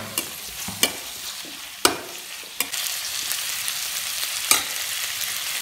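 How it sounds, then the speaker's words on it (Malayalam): Onion and tomato sizzle in a hot pan under a steady, close frying hiss, with a few sharp clacks of a stirring spoon against the pan. "സവാള ഒന്ന് വഴണ്ട് വന്നിട്ടുണ്ട്."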